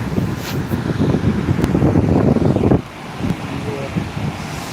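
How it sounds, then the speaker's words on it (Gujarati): Loud, steady rushing of water pouring over a check dam at Amirgadh, with broadband roar, dropping somewhat in level partway through but continuing throughout. "તમે જોઈ શકો છો પાણીનો અવાજ કેટલો બધો આવે છે"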